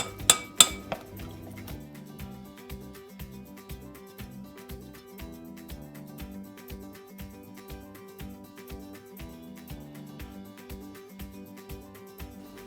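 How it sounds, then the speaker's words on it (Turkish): Steady rhythmic clinking of a utensil against a pot while stirring flour and water into a slurry, repeated quickly and evenly, with a few sharper clanks at the start. "Ben şöyle hemen bir bulamaç gibi unla suyu karıştırıyorum."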